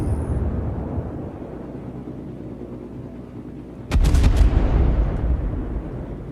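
Heavy anti-aircraft and gun fire pounding the carrier Lexington in a naval combat video game, a loud continuous roar that jumps sharply in volume with a burst of impacts partway through.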